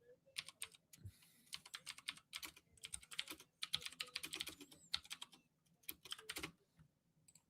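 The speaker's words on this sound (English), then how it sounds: "So I'm just typing this out for our friend in the chat here." Quiet typing on a computer keyboard during a live MMA fight companion stream, bursts of rapid key clicks broken by short pauses, close and fairly soft.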